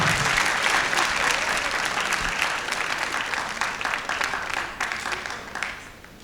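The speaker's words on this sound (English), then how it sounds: "Give him a round of applause." A high school assembly audience claps for a judge at a responsible-driving event, sustained close and even applause that gradually thins and fades in the final seconds.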